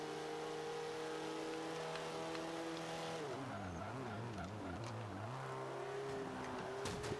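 Race car engines in the video game Forza Horizon 5, a Ferrari among them, hold steady high revs then shift and rev up and down with faint tire squeal, loud and continuous throughout.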